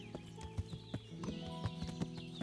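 Horse hooves clip-clopping at an even walking pace in the medieval game Kingdom Come: Deliverance, quiet and set against a soft ambient backdrop.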